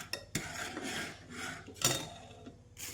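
Curd spooned into milk boiling in a pot for homemade paneer, heard as soft scraping and clinking of a metal spoon against the pot, with a few sharper taps over a steady bubbling hiss, close by and with no voices.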